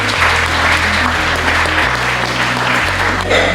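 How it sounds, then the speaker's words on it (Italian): Audience at a beauty pageant selection event applauding the contestants, loud sustained clapping throughout with a low musical beat underneath. "Un bel applauso per le nostre liste."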